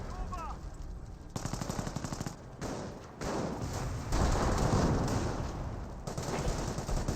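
Machine gun fire in the Company of Heroes World War II strategy game, several rapid bursts of rattling shots, some nearer and louder, over a background of distant battle noise.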